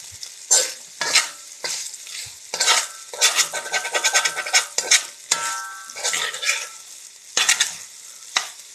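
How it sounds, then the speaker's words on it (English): Okra fries in a pan, with loud sizzling bursts and repeated scraping stirs in an uneven rhythm, close by and with no talk. "I like my okra a little crispy."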